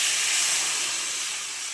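Water is poured into a hot pan of egg curry, giving a loud, steady, close steam hiss that fades slightly over under two seconds, with no voices.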